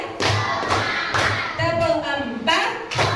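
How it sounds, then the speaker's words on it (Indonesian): A class of children does a rhythmic clapping game, bursts of group claps in a steady pattern mixed with lively voices. "yuk kita tepuk dulu"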